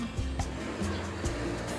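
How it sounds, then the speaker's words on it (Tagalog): A steady electric ceiling fan whirs in a kitchen, a continuous even hum with soft periodic swells and no talking. "Merong electric fan na ceiling fan."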